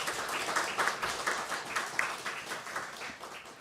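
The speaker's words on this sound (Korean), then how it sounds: "우리 하나님 앞에 감사의 박수를 드리겠습니다" A church congregation claps in thanks during an ordination thanksgiving service, with a run of distinct rhythmic hand claps blending into a moderate, roomy round of applause.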